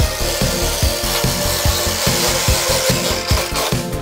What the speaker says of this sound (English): now I'm going to scribe the area where I'm gonna be cutting